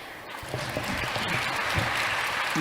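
An audience applauds steadily for a speaker at a talk, a continuous wash of clapping that holds at an even level throughout.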